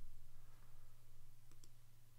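Two quick mouse clicks sound close together over a steady low electrical hum.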